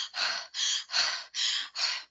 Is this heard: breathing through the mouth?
yes